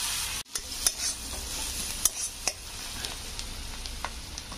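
Spices such as black cumin, whole cumin, chopped ginger and garlic fry in butter in a hot wok. A soft, steady sizzle runs throughout, with sharp stirring scrapes and clicks close by and no voices.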